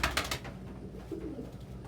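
Pet doves or pigeons cooing indoors, a soft low coo following a few brief louder rustles or flaps, fairly close with no speech.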